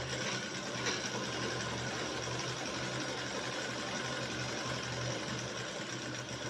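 A sewing machine runs in one steady, unbroken mechanical hum, stitching a second line a quarter inch below the first seam on a shirt collar band, close and alone without any talk.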